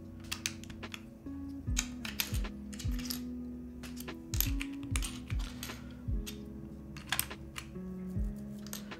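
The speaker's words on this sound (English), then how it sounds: "I need a few more keycaps and then we're almost done" Plastic keycaps clicking and snapping onto a Bauer Lite prototype mechanical keyboard, a steady run of sharp, close taps and presses in irregular bursts, with a low background hum and no talking.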